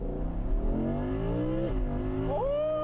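A car engine revving hard under load in a high gear, pitch climbing steadily as the revs rise, dipping briefly at a shift and then rising again, loud and close with no talk over it.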